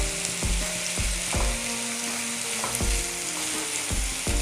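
Onion fries in hot oil with a continuous close sizzle, broken by the periodic knock and scrape of a spoon stirring it around the pan, under a faint musical background.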